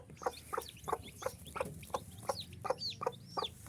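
A native desi hen clucks in regular low pulses while newly hatched chicks peep high and thin over it, close by and fairly quiet.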